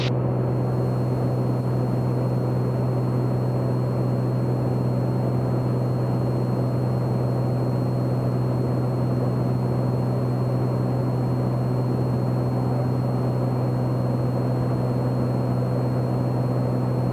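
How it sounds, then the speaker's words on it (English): A Piper Comanche 250 single-engine propeller airplane accelerating on takeoff, heard from inside the cabin as a steady, loud, droning engine hum with a strong low tone throughout, no talk. "We're going to let the airplane accelerate."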